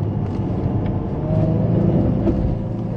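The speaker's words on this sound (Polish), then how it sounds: "A i fajnie wydech gra." A Porsche Panamera 3.6 V6 in Sport Plus mode, its exhaust giving a steady low droning rumble from inside the car while driving on a twisty road, with a slight swell in the middle.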